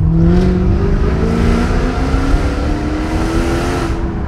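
Loud, close AMG sports car engine revving, its droning pitch climbing steadily as it accelerates, with no voices.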